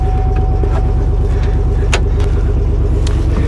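A Hummer H2 limousine engine runs on its first start after purchase, a loud, close, steady low rumble with a throbbing idle and a few faint clicks above it.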